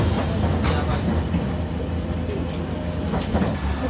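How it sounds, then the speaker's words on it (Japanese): A Nagasaki street tram rolls past close by, a steady rumble with rhythmic clickety-clack of wheels over rail joints and faint squeals, continuous throughout. "路面電車、利用しやすくて大好き。"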